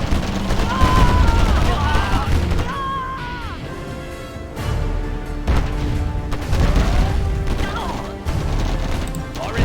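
A unit blowing up in Command & Conquer Generals, with booming blasts and crashing debris amid ongoing battle gunfire, unit voice lines and scattered speech over the clamor.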